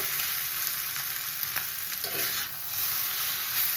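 Kachki fish frying in mustard-chilli paste on low heat, a steady soft sizzle with occasional stirring scrapes, close and continuous without any voices.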